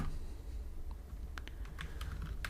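Keys clacking on a computer keyboard while code is entered, a loose scatter of crisp clicks bunched in the second half, close and fairly quiet with no voices.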